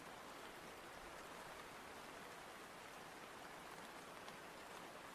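Cozy rain ambience playing steadily behind an art livestream: a soft, even hiss of rainfall pattering on a surface, constant and low in level with no voices.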